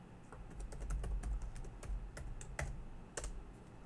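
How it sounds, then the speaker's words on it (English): Keys on a computer keyboard clack as a username and password are typed for a login, a quick irregular run of close, light taps with a couple of firmer strokes near the end, quiet and without speech. "Type in your identikey password and press enter."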